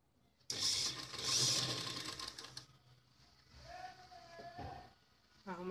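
A short, close burst of a sewing machine stitching a blouse sleeve, whirring for about two seconds before stopping, followed by someone speaking quietly.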